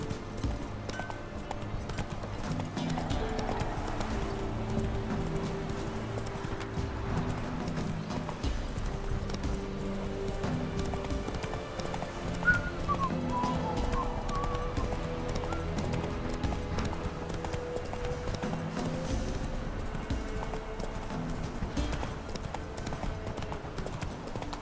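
In The Witcher 3: Wild Hunt, the horse Roach gallops with steady, continuous hoofbeats under a game soundscape, heard for the whole stretch at a moderate level.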